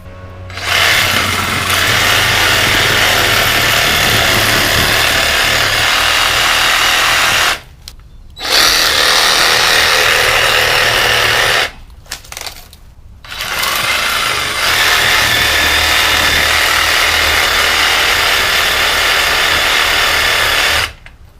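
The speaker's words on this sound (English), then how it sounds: "I'm going to go ahead and continue with the Sawzall." A Sawzall reciprocating saw fitted with a Diablo pruning blade cuts through a yard bush and its roots, loud and close, buzzing in three long sustained bursts separated by brief pauses.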